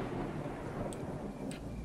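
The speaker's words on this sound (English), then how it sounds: "Now it's raining." Steady rain and a low storm rumble in a video game fill the whole short stretch, with no talking.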